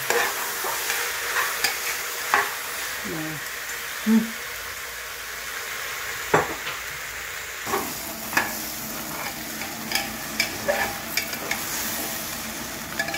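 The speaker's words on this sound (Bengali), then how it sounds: "চালটাকে একটু ভাজা ভাজা করতে হবে, বেশি না, সামান্য ভাজা ভাজা করে" Sonamukhi rice lightly fried in a pan, a continuous soft sizzle broken by repeated scraping stirs and occasional clacks of the spoon against the pan.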